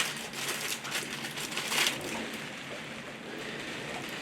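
Exhaust pipe insulation wrap being handled up close, giving a steady papery crinkling and rustling that runs throughout, with a slightly louder scrunch partway through and no talking.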